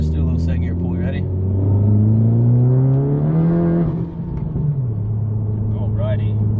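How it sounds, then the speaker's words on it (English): A 10th-generation Honda Civic with a new rear motor mount pulls hard in second gear, its engine note rising steadily as it revs up, then easing off, loud and close from inside the cabin. "Let's do a little second gear pull."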